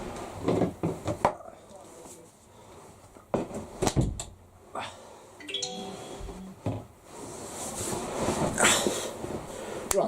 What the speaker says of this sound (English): I'm just going to very quickly close the door